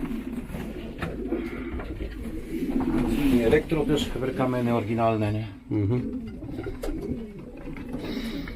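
Racing pigeons coo softly in the background of a loft while two people talk nearby, with rustling and faint bird calls throughout.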